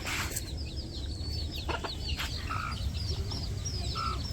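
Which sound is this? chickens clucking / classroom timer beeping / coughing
chickens clucking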